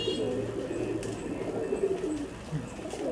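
A male Kaldam high flyer pigeon coos softly in a shop, low repeated throaty calls close by among other pigeons, faint over quiet background noise.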